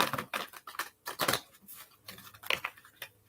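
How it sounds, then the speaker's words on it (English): Tarot cards being shuffled by hand, a series of quick, close riffling and flicking bursts in irregular clusters, some sharp and bright, with short quiet gaps between them. "For Brittany, one more shuffle."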